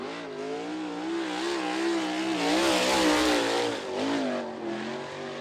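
A USAC sprint car races around the Ocala Speedway dirt track, its engine screaming loud and close with wavering revs as it powers off a turn, alone with no voices.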